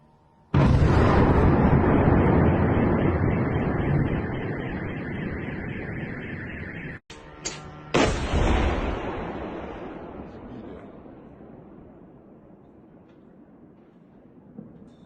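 A huge explosion from a drone attack in Moscow erupts suddenly and rumbles on, followed by a couple of sharp blasts, then a long fading roar of debris and echo.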